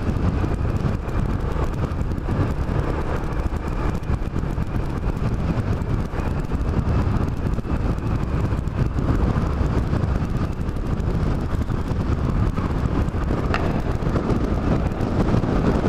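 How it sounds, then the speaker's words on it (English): Strong wind roars steadily across the microphone while riding a Yamaha Majesty scooter, a loud, constant rushing buffet that covers everything else for the whole stretch. "See how strong the wind is."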